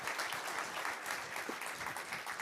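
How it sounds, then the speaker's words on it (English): Audience applause fills a conference hall at a tech session in Amsterdam, a steady, dense wash of many hands clapping at once, sustained and even throughout. "May I have a round of applause for Stefan and its presentation of"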